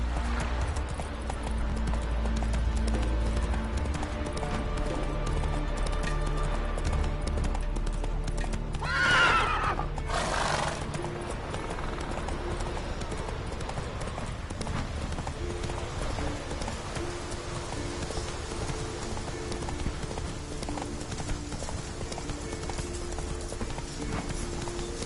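Roach the horse gallops across Skellige in The Witcher 3, steady clip-clop hoofbeats running throughout, broken near the middle by a loud whinny and snort, with a steady low ambient hum underneath.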